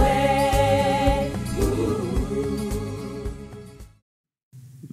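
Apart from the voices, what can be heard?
choir singing vaccine parody of a song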